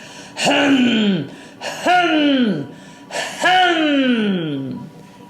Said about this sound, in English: So it's called the lion breath.